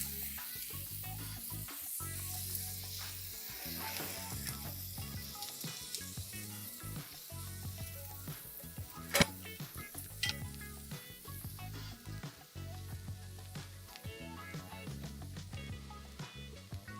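Vegetables sizzle loudly in a pan over a maximum flame, the steady crackle broken by scraping stirs and occasional clatter for a long stretch, with no talk.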